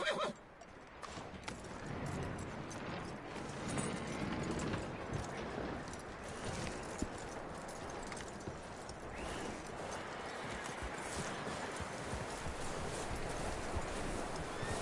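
Horse in Red Dead Redemption 2, with steady clip-clop of hooves and occasional whinnying over a dense, continuous outdoor ambience lasting throughout, fairly loud and unbroken.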